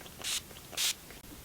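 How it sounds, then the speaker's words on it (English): Makeup setting spray misted in two short, bright hissing bursts close by, with a brief pause between them and no talking. "I'm just going to apply some setting spray"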